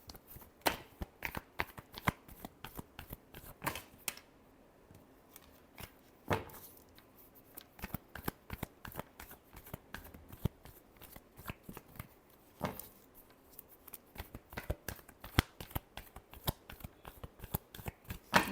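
Tarot cards are shuffled by hand in a long run of quick, crisp riffling and flicking bursts, close and fairly quiet, with no voice over them.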